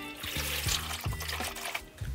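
About 231 g of water pours into a container for bread dough, a short soft trickle lasting a couple of seconds over faint kitchen background.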